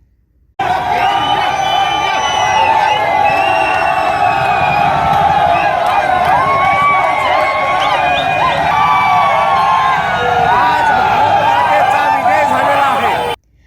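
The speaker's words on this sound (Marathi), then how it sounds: "क्रिकेटप्रेमींनी रस्त्यावर येत प्रचंड जल्लोष साजरा केलाय" A dense street crowd in Amravati celebrates India's cricket World Cup win, with continuous loud cheering, whoops and shouting voices filling the scene from start to finish.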